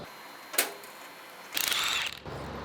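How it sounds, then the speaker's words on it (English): A ratchet clicks in two short bursts while oil pan bolts come off a two-rotor rotary engine, a quick near click then a longer rapid run of clicks. "I gotta remove the oil pan."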